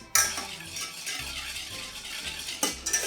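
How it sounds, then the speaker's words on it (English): A whisk works milk and a cocoa cinnamon syrup together in a pan with quick, close scraping and clinking strokes over a light bubbling hiss, nearby and fairly loud. "Milk. I'm going to just bring this to a quick simmer, so you just want to whisk this"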